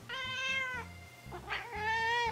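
Two drawn-out, tonal cat meows separated by a short pause with a faint rustle between them, close and fairly loud, no talking.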